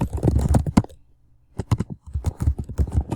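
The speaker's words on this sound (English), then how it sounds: "so I'm typing my name" Fast, close clicking of keys on a computer keyboard as a name is typed, in irregular bursts with a brief pause in the middle.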